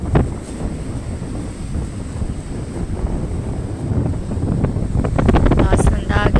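Strong wind at a river mouth by the sea buffets the microphone in loud, continuous gusts, with rushing water beneath and brief voices toward the end.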